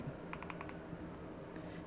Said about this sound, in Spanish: Para apagarla es muy sencillo, eh, simplemente vamos a dar doble clic